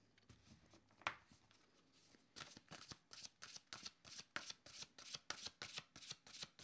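A deck of playing cards being handled and then riffle-shuffled repeatedly, with a steady run of crisp, close, rhythmic riffles filling the second half.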